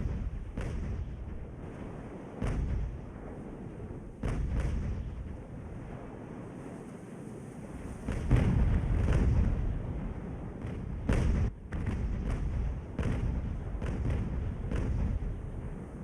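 Naval cannon fire in Ultimate Admiral: Age of Sail, with repeated booming broadside shots at irregular intervals, some close and heavy, others lighter cracks, over a continuous rumbling battle background.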